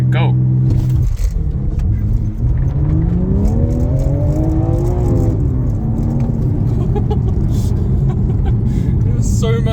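Hard launch-control start in a rear-wheel-drive BMW G80 M3 Competition, the engine note climbing steeply as the tyres spin, loud and close from inside the cabin, with people talking over it.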